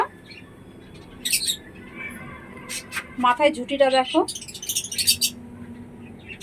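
An almond-colored crested pigeon gives a few short squeaky calls and chirps, close and moderately loud, between stretches where a person talks.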